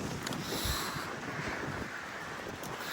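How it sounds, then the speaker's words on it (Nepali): Steady wind blowing across the microphone in a village in Poland, shaking houses and trees, a constant rushing roar with low buffeting gusts and no voices. "कस्तो बतासले कस्तो हल्लाइरहेको छ होइन"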